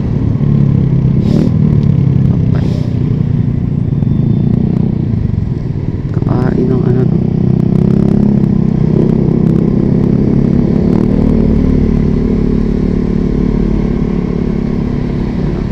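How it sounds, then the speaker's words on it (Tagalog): Loud motorcycle engines rumble and rev close by in heavy traffic, with a deep continuous roar and occasional clatter. "So ang lalakas ng motor nila, lalakas ng tunog."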